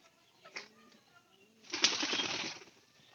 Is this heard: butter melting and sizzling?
no